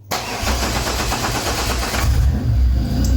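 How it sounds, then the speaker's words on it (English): A 1986 Pontiac Fiero with a swapped supercharged 3800 V6 cranks and fires inside a garage, then settles into a loud, throaty idle with a brief rev, its exhaust booming and reverberating off the walls. "If I remember right, the exhaust on this thing is very loud, unfortunately."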